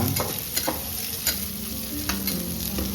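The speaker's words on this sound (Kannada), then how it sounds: "ಹಸಿಮೆಣಸಿನ್ಕಾಯಿ ಇಷ್ಟು ಹಾಕೊಂಡು ಫ್ರೈ ಮಾಡ್ಕೊಳ್ಳಿ." Green chilies fry in hot oil in a pan as biryani is prepared, a steady close sizzle broken by several sharp scrapes of stirring.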